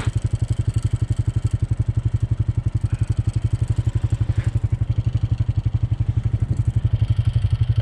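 A 2020 Honda 520 Rubicon ATV on 32-inch tyres drives through waterlogged ground. Its engine holds a loud, steady pulsing thrum at close range with a fast, regular rhythm and faint splashing clatter throughout.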